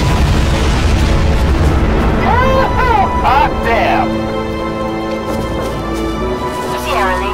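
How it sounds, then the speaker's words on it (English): Bombs detonating in the Crysis Warhead video game, a loud continuous rumbling barrage of blasts under radio voices and a dense game soundtrack, with talk throughout. "Bombs away."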